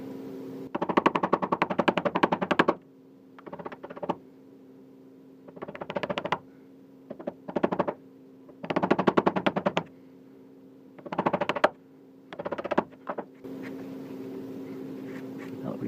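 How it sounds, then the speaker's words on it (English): A chisel is driven straight down into a wooden workpiece while cutting a rabbet joint, making repeated bursts of rapid, sharp chopping knocks separated by short pauses, close and fairly loud, with no talking. "We're going to need to chop straight down"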